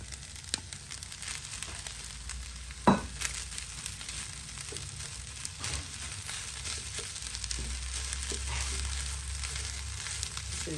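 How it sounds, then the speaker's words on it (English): Eggs hit a hot pan for egg fried rice and sizzle steadily, a close frying hiss with stirring and scraping and one sharp clatter near the start, no talking. "So right now we're just gonna be adding all the eggs."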